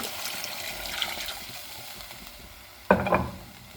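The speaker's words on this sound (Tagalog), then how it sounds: "Lagyan natin ng tubig." Water is poured into a pan of sardines sautéed to cook miswa, and after a quiet low sizzle a sudden loud hiss bursts up and then settles back.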